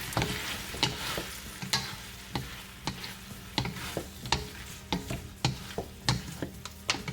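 Pork and liver igado cooking in a pan, stirred with a steady run of sharp utensil scrapes and clacks over a soft sizzle, close and fairly quiet, with no voices.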